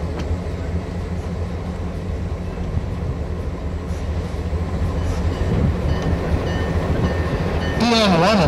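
BN1 and BN2, EMD diesel locomotives built in the 1950s, roll into a reviewing area with a steady rumbling rail noise that grows slightly louder, and a squealing screech rises near the end.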